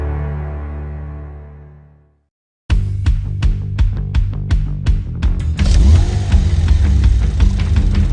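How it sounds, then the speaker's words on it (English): A Porsche Macan sports car engine revs hard in a series of sharp throttle blips, then settles into a loud, continuous growl. A fading tonal sound and a brief silence come before it. "It sounds like a sports car."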